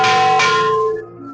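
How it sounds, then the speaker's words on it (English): A single bell rung at a hillside Mandir temple, a bright metallic strike with a quick second hit, ringing loud and close before decaying into a lingering hum. "I like to ring that bell 3 times. Yeah. So listen to the bell."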